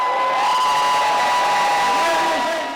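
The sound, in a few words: crowd cheering and roaring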